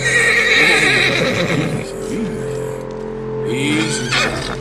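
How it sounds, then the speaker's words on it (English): A Mahogany Bay Tennessee Walker horse in the video game Red Dead Redemption 2 gives a loud, close, wavering whinny, followed by a second shorter neigh, with some hoof clopping and a voice in the background. "Horse number 2 is named Colm, the Mahogany Bay Tennessee Walker"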